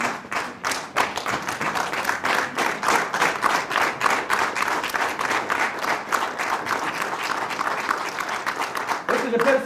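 Audience applause and acclamation at a presidential investiture ceremony where the newly elected president receives the symbols of power, with dense steady clapping from a large crowd filling the whole stretch and stopping just before the end.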